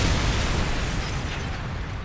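A dense, loud rumbling burst of grenade explosions in a first-person shooter game, filling the whole moment with booming noise and no talk.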